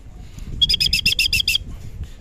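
A returning racing pigeon lands at its loft after a long derby race, while a bright, rapid string of high chirps rings out for about a second over low background rumble and rustling.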